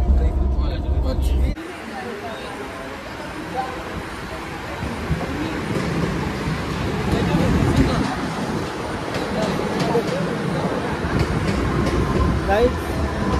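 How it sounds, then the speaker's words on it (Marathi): A train rumbles in steadily with a continuous heavy roar, while people talk nearby over the noise. "ट्रेन आलेली आहे"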